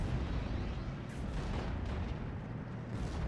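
Explosions from a bombing strike in the wartime strategy game Steel Division: Normandy 44, hitting an Opel Blitz truck: a continuous low rumbling barrage of booms and blasts that fills the whole stretch.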